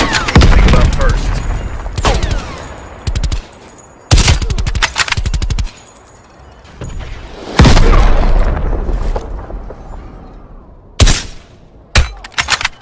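Loud bursts of automatic gunfire and booming explosions from the video game Call of Duty Black Ops Cold War, coming in several intense volleys separated by quieter gaps, with voices heard between them.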